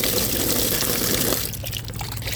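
Water pours steadily into a chicken waterer at feeding time, a continuous splashing rush that thins out partway through into lighter trickling and drips.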